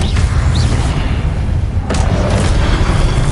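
Confringo blasting curse explosion in the Hogwarts Legacy video game, a loud deep rumbling boom that sustains throughout, with a sharper burst partway through.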